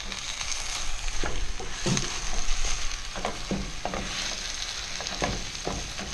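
Ground meat for bolognese sauce sizzles steadily in a hot pan, with repeated scraping stirs of a utensil cutting through the frying hiss, close and clear with no talk.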